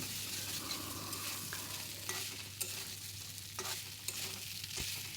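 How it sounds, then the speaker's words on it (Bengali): Potatoes and carrots stir-fried in spice paste for a vegetarian kohlrabi curry, with steady frying sizzle and repeated scraping stirs of a spoon in the pan throughout, no voices. "আলু আর গাজরগুলি ভেজে রাখা মশলার মধ্যে দিয়ে আমি এবার এটাকে আর একটু সময় কষিয়ে নেবো"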